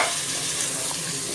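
Mutton drops into hot oil in a pan and sizzles, a dense, steady hiss filling the short moment, close and loud with no voices.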